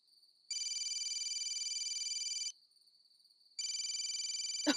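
A mobile phone rings in two loud electronic bursts of rapid warbling tone separated by a short pause, close and clear in a quiet indoor scene.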